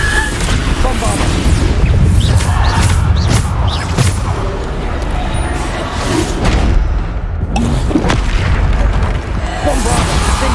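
Bombarda explosion spells go off in Hogwarts Legacy during a magic duel, loud booming blasts packed densely together with crashing debris and continuous battle noise, voices shouting spell names over them.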